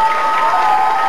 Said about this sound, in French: Donc Kira, on peut l'applaudir aussi parce qu'elle était là aussi